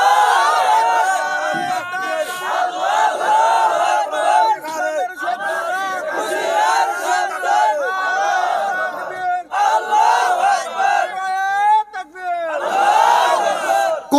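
A crowd gathered at a religious gathering shouts the takbir together in loud, repeated waves of massed voices, with cheering swells and brief lulls between rounds.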